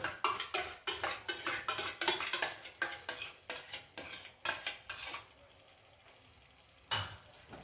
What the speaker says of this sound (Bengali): টক দইটাকে দিয়েও ভালো করে এর সাথে কষিয়ে নেবো